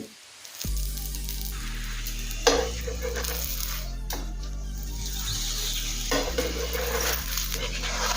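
Stuffed cabbage paratha frying in oil on a griddle over a low to medium gas flame, giving a continuous close sizzle under a steady low hum, with a few brief clicks and scrapes.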